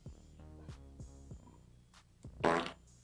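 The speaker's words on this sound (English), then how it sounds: "No disrespect, but I got a fart on you." Fart sound: several short, buzzy, low blasts in sequence, ending in a louder, longer sputtering burst, close and alone.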